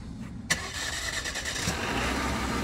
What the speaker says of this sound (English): Two presses will kick over the motor for us.